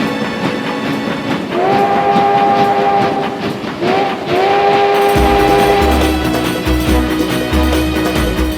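Train from the Nintendo DS game Zelda Spirit Tracks, loud and close, with sustained whistle tones and a steady rumbling clatter of wheels on track.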